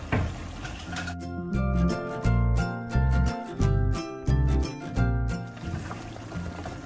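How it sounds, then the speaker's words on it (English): Starchy pasta water is poured into a pan of orecchiette with sausage and broccoli sauce, giving a close, gurgling, rhythmic pour that swells and dips in several pulses before a sizzling simmer. "let's add more pasta water because I want to finish to cook the orecchiette pasta inside the sauce"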